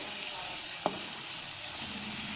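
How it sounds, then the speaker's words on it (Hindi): Chopped onion sautés with cumin in oil in a pan, a steady close hiss with one brief knock partway through. "तो यहाँ पे जैसे ही हमारा ज़ीरा सौते होगा हम इसमें प्याज ऐड कर देंगे।"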